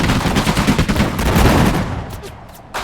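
Dense gunfire in the World War II strategy game Sudden Strike 4 during the Battle of Hurtgen Forest, rapid overlapping machine-gun bursts that are loud and continuous, then thin out into a few scattered shots.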